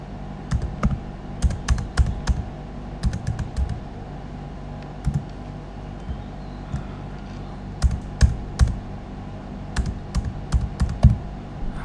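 A PromptPay number is tapped out on a computer keyboard in quick bursts of crisp, close keystrokes separated by short pauses, steady and clear with no talking.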